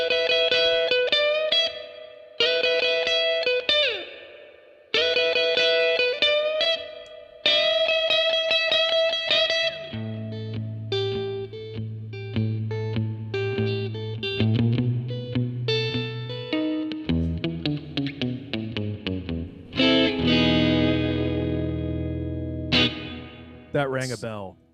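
An electric guitar plays a solo with hall reverb, the clean twangy notes ringing out in phrases over a sustained low chord, with the reverb tail filling the gaps.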